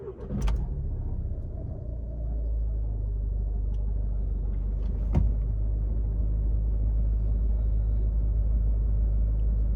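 A VW Scirocco 2.0 TDI diesel engine runs steadily with a deep, even rumble that holds at a constant level throughout, joined by a few faint clicks and a brief knock midway.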